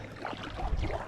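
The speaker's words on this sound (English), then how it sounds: "we'll just keep on paddling up here" Canoe paddle strokes dipping and pulling through water on a river trip, a short low swish of disturbed water under faint wind, close to the boat with no talk.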